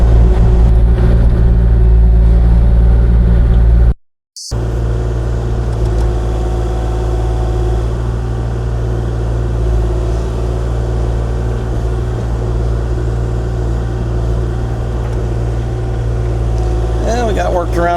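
A Kubota KX040-4 mini excavator digging a trench through ground hiding concrete, its diesel engine droning loud and steady at close range with a brief dropout partway through.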